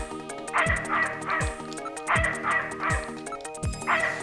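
A dog named Alice in the game Snatcher barks in a quick, steady series of sharp yips, about two per second, close and loud with no talk over them.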